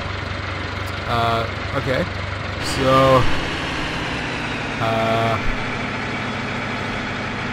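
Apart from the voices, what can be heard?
JCB tractor engine idling in the video game Farming Simulator 15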